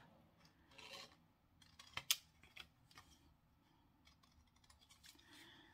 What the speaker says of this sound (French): Alors, vous prenez votre ciseau, on va couper les angles.